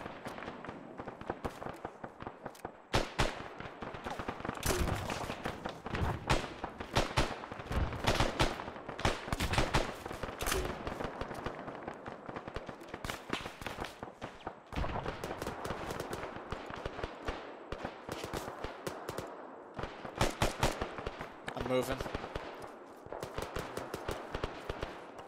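Gunfire in the military video game Arma 3: a sustained stretch of rapid, sharp shots and bursts that repeat densely and irregularly for the whole stretch, loud and close, with no talk over it.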